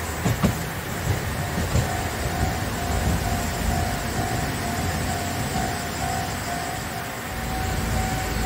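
A Kagoshima streetcar rolls past a level crossing with a steady rumble and a sustained crossing tone, continuous and fairly loud with no voices.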